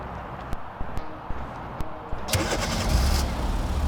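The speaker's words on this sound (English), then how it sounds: "And here you go, the car is running." 2023-2025 Kia Sportage engine starting via remote start: several soft clicks, then the starter cranks and the engine catches and settles into a steady idle, heard close.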